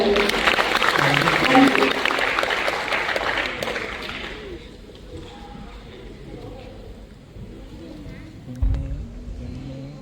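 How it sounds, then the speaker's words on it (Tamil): Applause for singers at a Tamil singing event, brisk clapping from the audience at first that fades after a few seconds into quieter room noise, with a voice speaking over it. "நான் இன்னும் ஒரு தரம் அவர்களுக்கான கரகோஷம்"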